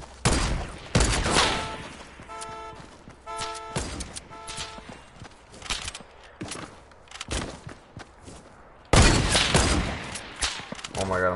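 Gunfire in Fortnite rattles in repeated bursts and rapid volleys, loud and close, with short pauses between clusters and a heavy salvo near the end.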